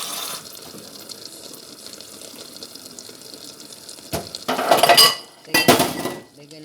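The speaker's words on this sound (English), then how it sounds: "And my glass just fell over." A glass tipping over on a kitchen counter beside running water, giving a couple of sharp, close clinks and clatters near the end over a soft, steady background.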